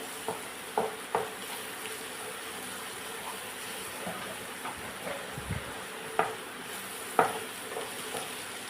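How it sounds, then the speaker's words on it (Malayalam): Two slit green chillies crackle in a hot pan over a quiet, steady sizzle, with scattered sharp pops and utensil clicks and no talking. "ഇനി ഇതിലോട്ട് 2 പച്ചമുളക് കീറിയിലിടുന്നു"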